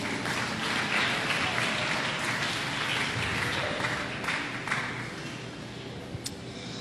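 A church congregation applauds in a steady, dense patter of clapping that fills the room and slowly thins toward the end.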